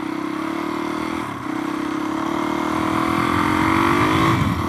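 A trail motorcycle revs while being ridden, its engine holding a steady buzzing drone that climbs in pitch toward the end, loud and close with rushing wind noise underneath.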